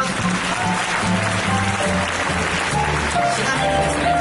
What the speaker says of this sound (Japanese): もう一度拍手をお願いします。